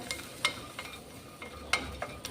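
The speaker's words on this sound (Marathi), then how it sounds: "छान असं भाजून घेते एक पाच मिनिट जास्तही आपल्याला हे भाजून घ्यायचं" Split chickpeas and peas are dry roasted in a pan over low heat, with soft irregular scraping and stirring clicks and a faint rustle, quiet and close.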